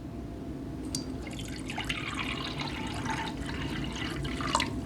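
Water poured into a package of a 1967 West German survival ration, a steady trickling and splashing stream of about 8 ounces that lasts throughout, close and moderately quiet.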